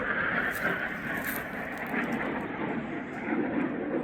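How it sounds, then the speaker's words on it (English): A steady, broad engine roar drones overhead for a few seconds, even and unbroken, like a plane passing at a distance. "Y'all hear that plane?"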